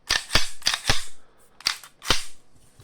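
A Zastava M57 pistol fires about six sharp, loud shots at a shooting range, spaced irregularly with brief quiet gaps between them.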